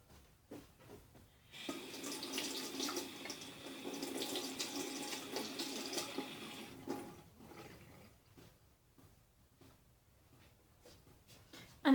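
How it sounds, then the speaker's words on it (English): Cold water runs from a tap over a small object held in the stream, a steady splashing gush lasting several seconds and then tapering off into quiet handling sounds, close by with no talking. "now you just rinse it with cold water."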